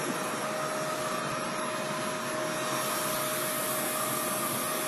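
An 1,800-watt vacuum cleaner with a brush roll runs in a television studio, giving a steady loud whooshing roar with a faint high whine that holds throughout, with no talking over it.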